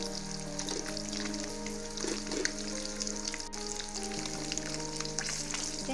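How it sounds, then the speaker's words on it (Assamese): Shol fish with korodoi tenga sizzling steadily in hot oil in a pan, a continuous close frying crackle with occasional stirring scrapes and no talk. "আৰু এয়া আমাৰ মাছখিনি প্ৰায় ভজা হৈ গৈছে।"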